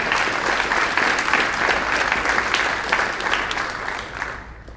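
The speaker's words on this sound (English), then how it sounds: "would you give our custodial crew a round of applause?" An audience at a National Junior Honor Society induction ceremony applauds the custodial crew with steady, dense clapping that holds for several seconds and then thins out and fades at the end.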